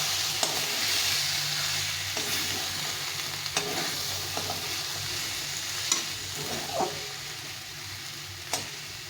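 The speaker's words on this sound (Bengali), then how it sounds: "আলু আর ছোলাটা ভালো করে কষিয়ে নিতে হবে।" Potatoes and chickpeas sauté in a pan for a paneer chickpea dish, a steady dense sizzle with periodic scraping stirs and light knocks of the spoon, close and even in level.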